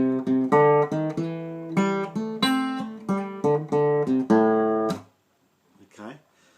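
Acoustic guitar plays a rag riff in Piedmont blues style, thumb-picked bass starting on G with bright treble notes, a steady plucked rhythm for about five seconds before fading to quiet.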